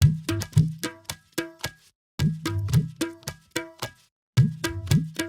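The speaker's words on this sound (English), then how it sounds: "Tabla plus dholak, we have multiple loops of that." Looped tabla and dholak pattern with sharp ringing strokes and deep thumps, repeating in short phrases separated by brief silences, dry and alone.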